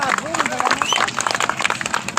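An audience claps at a football tournament prize-giving ceremony, a dense, steady patter of many hands that stays close and lively. A loudspeaker voice talks over it throughout.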